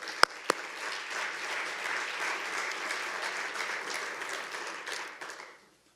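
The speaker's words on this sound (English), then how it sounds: "So round of applause." A crowd at a public parks and greenways master plan meeting applauds steadily for several seconds, dense clapping that tapers off and fades to silence.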